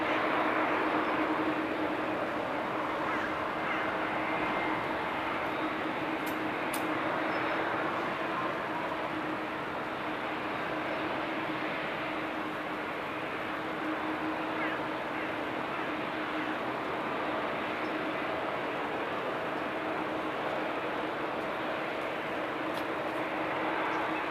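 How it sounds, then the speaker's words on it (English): A Boeing 777 airliner rolling at Amsterdam Schiphol Airport gives a steady, broad jet engine rumble with a constant hum, heard from a distance as an unbroken drone across the whole stretch. "A777 is already rolling."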